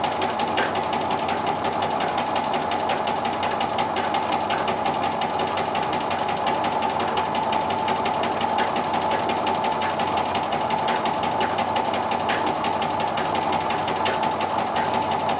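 A sewing machine stitches quilted grid lines across a triangle-patterned quilt top, a steady close rapid mechanical whirr and needle chatter running unbroken from start to finish.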